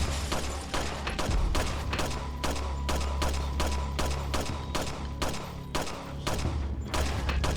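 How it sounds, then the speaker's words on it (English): Dense, continuous gunfire in the Resident Evil game during Ada's Separate Ways, with rapid repeated shots and booms sounding at a steady, loud level throughout, without any talking. "Can I shoot them through this?"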